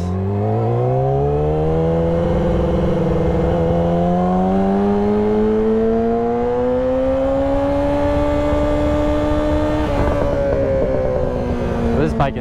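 A loud motorbike engine revs steadily upward in pitch for over ten seconds, a strong close-up whine that rises and holds, with a brief shift near the end.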